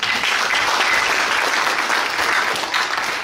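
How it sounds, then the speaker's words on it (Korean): Hearty, sustained applause fills a hall of union delegates at a regional branch's regular delegates' meeting. Many hands clap in a dense, even roar for the whole stretch, with no speech over it. "동지들 힘찬 박수로 축하해 주십시오."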